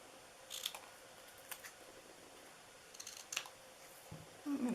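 Scissors snip across paper for a Christmas ornament box, a few quiet, crisp cuts spaced apart at close range, followed by a soft rustle of handling.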